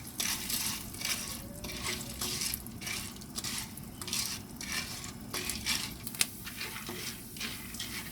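Popcorn kernels, oil and salt are stirred in a pot, with scraping and gritty rattling over a low steady background hiss.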